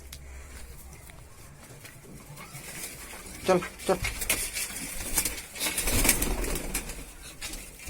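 Flocks of pigeons and doves gathering at a house to feed on wheat, soft cooing with brief bursts of wing flapping, close by, while a person talks over it.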